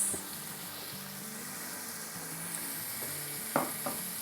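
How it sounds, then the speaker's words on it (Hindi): Steady frying sizzle as fried onions are added to a hot pan for chicken handi, with occasional stirring clinks and scrapes, close and moderately loud, no voices. "इसमें अब हम झटपट डाल देंगे 1 कप तली हुई प्याज।"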